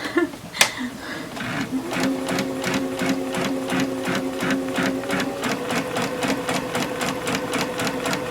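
A sewing machine stitches steadily for a fabric garment, its rapid, even needle rhythm running loud and close throughout, with a sharp click near the start.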